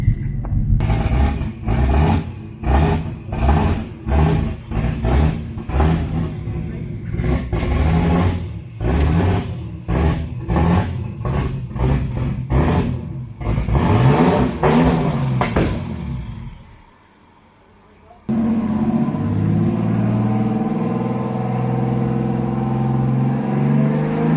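Turbocharged BMW E36 with a stock M52 inline-six running about 8 psi on a dyno, revving in rapid repeated bursts, then a long rising pull that cuts off briefly before settling into a steady, loud drone.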